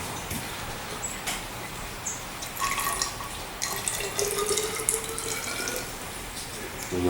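Fuel stabilizer poured into motorized bicycle fuel, a steady liquid trickle and splash running close and continuous with small drips, no talk.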